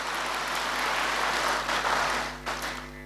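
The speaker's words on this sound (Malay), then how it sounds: "Kita bagi tepukan kepada ketiga PPD ini." An audience at a Sarawak education leadership awards ceremony claps in a dense burst of applause that swells and then fades out near the end.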